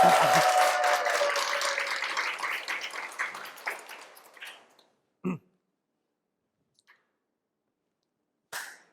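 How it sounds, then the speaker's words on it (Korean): Audience applause in a lecture hall breaks out loud and dense, then thins into scattered claps over about four seconds, fading to silence with a couple of isolated claps afterward. "박수 한번 좀 크게 쳐주세요."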